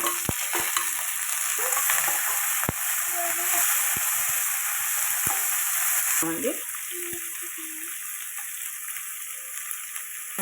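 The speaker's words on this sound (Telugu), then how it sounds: "ఇప్పుడు మనము తెల్లగడ్డ వేస్తున్నాము కొంచెము అలాగే ఆనియన్స్" Garlic and onions frying in a pan for a spicy brinjal and ridge gourd curry, a steady loud sizzle with scraping stirs throughout, brief voice-like tones faintly underneath.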